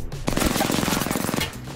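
Rapid automatic gunfire in the Apex Legends video game, a loud dense burst of closely spaced shots sustained for over a second, with a faint voice.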